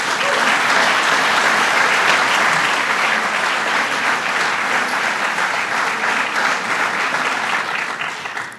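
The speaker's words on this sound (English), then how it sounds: "Let's give them all a round of applause" A large conference audience claps for Long Island business and congressional leaders, a loud, sustained, dense round of applause that holds steady throughout and thins slightly at the very end.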